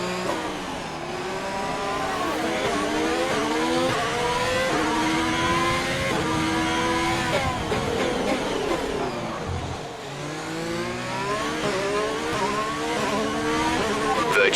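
A Haas F1 race car in F1 2020 at the Baku Grand Prix, its engine revving hard and loud through rising and falling gear shifts, near and continuous with no talk.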